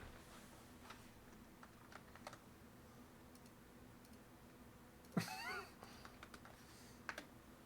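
A Z key on a computer keyboard repeating under the weight of an Xbox controller resting on it, faint rapid clicking spread across the stretch, with one louder louder clatter partway through in a quiet room.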